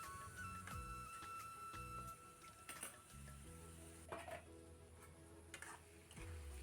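Pork with bamboo shoot stirred in a pan after a splash of water is added, utensil scraping and clinking against the pot in irregular strokes over a low simmering sizzle, close and steady, with no voices.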